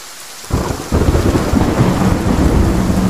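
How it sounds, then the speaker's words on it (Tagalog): In the Roblox game Brookhaven, rain suddenly starts after a quiet moment, then jumps louder into a steady, dense downpour layered with low rumbling thunder that continues to the end. "Lumakas na yung ulan."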